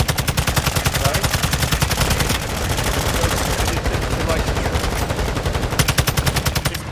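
Gunfire from a helicopter in a video game: loud, rapid automatic bursts with a steady pulsing rhythm, broken midway by a denser roaring stretch, then rattling again toward the end.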